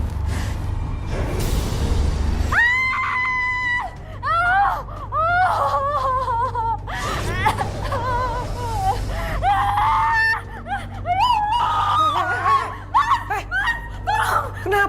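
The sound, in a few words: woman screaming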